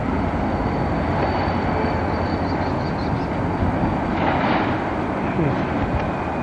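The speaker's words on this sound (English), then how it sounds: "That's your train engine." Train engine passes with a steady heavy rumble and roar, loud and continuous, with brief higher squeals and faint voices in the background.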